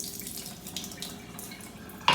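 Filtered water from a multi-pure home filter system stirred in a glass, soft close sloshing and trickling with a sharper splash at the end, no talking.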